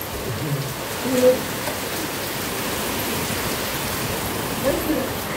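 Steady rain falls outdoors, a soft, even hiss throughout with a couple of brief louder touches and faint voices in the background.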